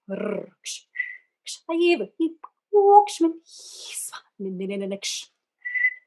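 Short human whistles from an extended vocal technique score, thin high pitched tones scattered between sung or spoken vocal sounds, close and clear in a quiet room.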